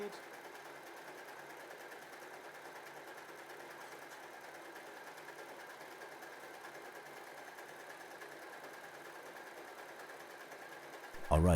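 A W6 N 1235/61 sewing machine runs steadily for about eleven seconds, sewing a triple stretch stitch on stretchy fabric, with a constant close whirring hum and no talking, ending in a short louder clunk.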